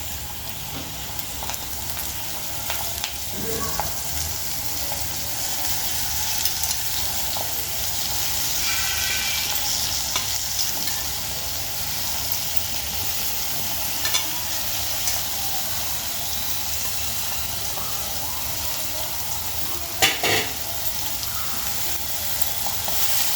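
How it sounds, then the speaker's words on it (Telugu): Fresh spinach sizzles steadily in a hot pan with coriander and green chilies, while occasional scrapes and clinks of stirring rise over the continuous frying hiss. "ఇప్పుడు పాలకూర వేసేద్దాం"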